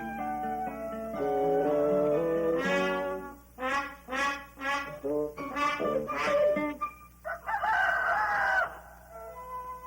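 A rooster crows several times in a row, loud and close, each crow a harsh drawn-out call with short gaps between.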